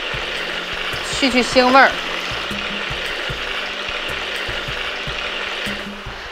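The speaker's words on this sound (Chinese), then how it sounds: "姜片，还有干辣椒、八角、桂皮、花椒，煸炒出香味儿。 加一点生抽，再加一点料酒" Pork ribs stir-fry in a wok with ginger, dried chili, star anise, cinnamon, Sichuan pepper, soy sauce and cooking wine, giving a steady sizzle and scraping throughout while a voice speaks briefly early on.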